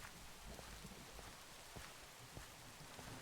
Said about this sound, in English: this is a nice place to be in the rain with all the trees